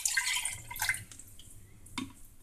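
Guava juice pours into a 200-gram glass in a kitchen, giving soft liquid splashing and dripping with a few sharper drops, fairly quiet.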